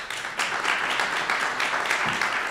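Audience applause welcoming a guest onto the stage at a business conference on family companies, a dense, even patter of many hands clapping together, close and sustained throughout without talk.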